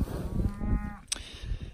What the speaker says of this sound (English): Short little cow.